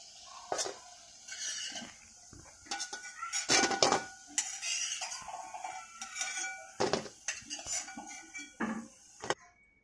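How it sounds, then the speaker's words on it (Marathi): Steamed vadas lifted out of a pan onto a plate, with intermittent clinks of a metal utensil against cookware and plate, close and fairly quiet, no speech. "आता आपण हे ना काढून घेऊयात एका प्लेटमध्ये।"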